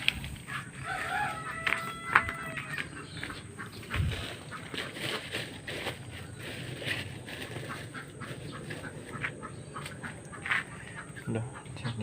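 Free-range village chickens (ayam kampung) cluck around their laying nests, a steady nearby stream of hen clucks and calls with rustling and faint background noise.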